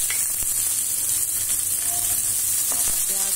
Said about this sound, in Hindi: ये जीरा आपका क्रैकर हो चुका है, देखिए आवाज आ रही है।